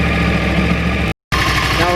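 A 2009 Yamaha R1 with a crossplane engine idles loudly up close, giving a steady, uneven low rumble that drops out for a brief gap and then resumes.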